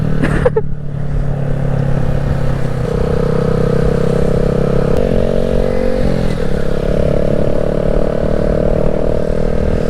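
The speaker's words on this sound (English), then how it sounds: "This bike accelerates so slow." A 2020 Honda Grom motorcycle engine pulls steadily under acceleration on an early morning road ride, a continuous close buzzing drone that holds loud throughout with slight pitch shifts as it revs.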